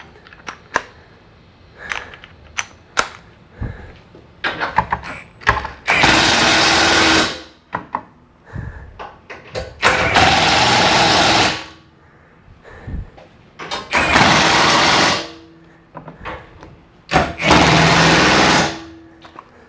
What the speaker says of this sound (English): So I got this impact